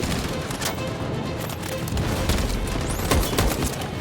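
Covering gunfire in the game Detroit: Become Human, a continuous dense rattle of shots with occasional heavier booms, fairly loud and steady throughout, with faint voices in the mix.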